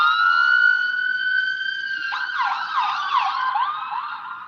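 An ambulance siren wails steadily nearby on a street during protests, then switches to a rapid warbling yelp partway through, loud and sustained with no talking.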